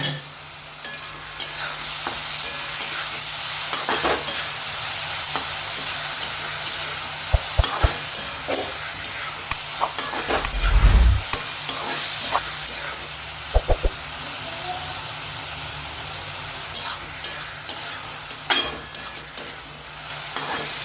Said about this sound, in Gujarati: પહેલાં થોડું મિક્સ કરી દઈએ.